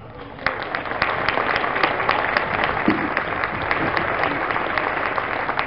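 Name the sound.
audience applauding the team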